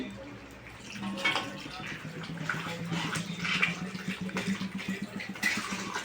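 Water runs into a cooking pot on a home stove in a steady, splashing pour that starts after about a second and keeps going, while someone talks quietly over it.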